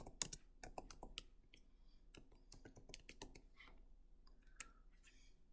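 Fingers tap on a computer keyboard in quick, irregular bursts of close, crisp clicks, followed by a few scattered keystrokes in a quiet room.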